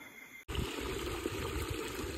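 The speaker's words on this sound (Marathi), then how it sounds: "तर इथं पाहू शकता वाहतं पाणी आहे. कंटिन्यू वाहत आहे." Rain-swollen stream on the Harishchandragad trek at night, water flowing continuously with a steady broadband rush and trickle that starts abruptly and stays fairly close, with no voices.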